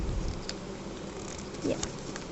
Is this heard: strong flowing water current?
no